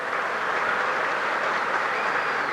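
A cricket crowd applauding at the Sydney Test in the 1974/75 Ashes series, a steady, even wash of distant clapping from a large stadium audience, heard alone without commentary.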